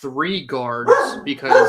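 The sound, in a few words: dog barking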